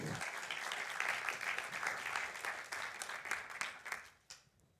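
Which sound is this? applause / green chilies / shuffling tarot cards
applause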